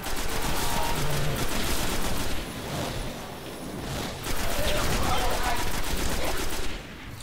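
Loud, dense gunfire from the video game Destiny rattles almost continuously in rapid automatic bursts, dipping briefly before surging again, with game effects layered underneath.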